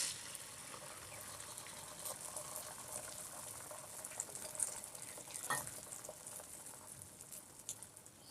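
Egg paratha frying in a pan gives a steady, close crackling sizzle that holds through the whole stretch, with a few sharper spatters and faint scraping in the middle, and no voices.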